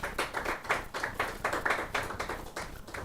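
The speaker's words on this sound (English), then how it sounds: "May we clap yourself for yourself." A church congregation at a Sunday service claps together, a few seconds of rhythmic, fairly loud clapping with distinct repeated beats and no talk.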